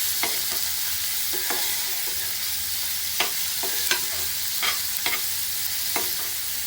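Onion frying for paneer bhurji, a constant bright sizzle with intermittent spatula stirs and scrapes against the pan, close and steady.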